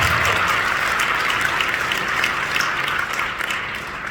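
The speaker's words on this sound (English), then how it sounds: "Big round of applause." Sustained applause from a sizeable crowd at a Steve Irwin gala in Las Vegas, steady and fairly loud, gradually tapering slightly toward the end.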